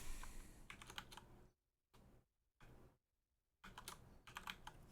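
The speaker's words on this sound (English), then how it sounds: "I'm gonna have to type that one out." Rapid clicking of keys on a computer keyboard, typed in two bursts with quiet gaps and brief taps between them.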